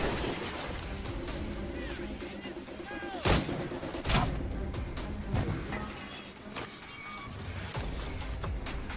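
Gunfire and artillery-like blasts in Assassin's Creed Rogue on Xbox 360, with a few sharp shots standing out over a dense, rumbling battle backdrop of continuous noise, water and ship sounds.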